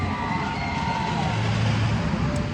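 The Voyage wooden roller coaster train at Holiday World thunders past, a loud, close, rumbling roar with screeching wheel tones that stays strong throughout.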